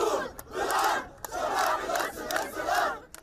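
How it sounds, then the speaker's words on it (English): Crowd of demonstrators chanting slogans at Damascus Gate in Jerusalem, loud rhythmic shouted phrases repeating in waves with brief pauses between, close and dense. "this crowd behind me chanting slogans"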